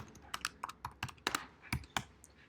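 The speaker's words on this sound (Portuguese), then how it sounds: "Eu vou digitar essa própria classe" Rapid, irregular keystrokes on a computer keyboard while a Dart class is typed out, a dozen or so close clicks in uneven bursts with no talking over them.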